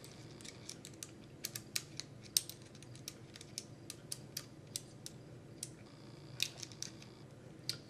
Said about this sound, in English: Hold it there with your finger. And put the screw back in.